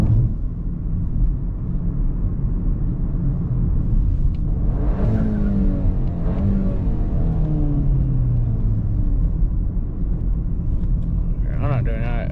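An EQT Stage 1 tuned Mk8 GTI engine booms with a heavy, continuous rumble heard from inside the car, its pitch climbing sharply under hard revving and then settling, with a brief voice near the end.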